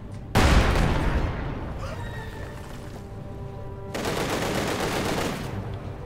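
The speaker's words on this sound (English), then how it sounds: "Machine guns raking down poor Heinrich, with only one survivor escaping the wrath of the T-3045" Machine-gun fire rakes across a Company of Heroes 2 battlefield: a sharp loud burst opens, then distant rattling and a second sustained volley of gunfire.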